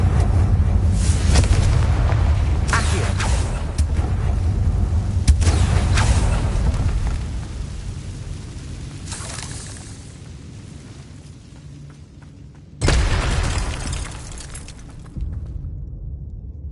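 Repeated Confringo fire-spell explosions in Hogwarts Legacy, loud booming blasts with crackling debris that come in several bursts and fade between them, with no talking.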